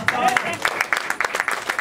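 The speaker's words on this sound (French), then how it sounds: "Applaudissez pour vous-même." An audience at a national Mvet day ceremony claps in short, irregular bursts, moderately close, with a voice briefly audible at the start.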